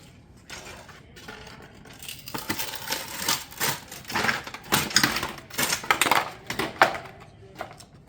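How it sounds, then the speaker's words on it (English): A metal barrel vault tile batten being cut with a hand cutter: a quick series of sharp metallic clicks and crunching snips at close range, louder bursts in the middle before tapering off. "Go ahead and take it to your cutter."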